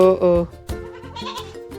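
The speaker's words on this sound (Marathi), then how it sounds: "तर एक दोन तीन हे तीन पिलू या शेळीला झाला आहे" A goat that has just given birth to three kids bleats in short, close calls, with a person talking over and between them.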